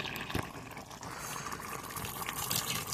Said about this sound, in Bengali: তো বসিয়ে দিয়েছি খাসিটা আমি। মানে টকবক টকবক করে ফোটে,